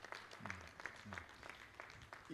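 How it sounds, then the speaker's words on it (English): Audience applause at an annual general meeting: faint, scattered clapping from a seated crowd, with a voice speaking over it. "So a round of applause for the chair."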